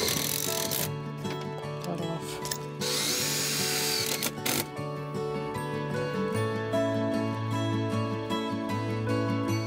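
A power drill drives a tech screw into a door stop on a Dutch door end wall of a Farmers Friend caterpillar tunnel. The motor whines steadily with pitch shifts and short pauses, close and fairly loud, with no talking.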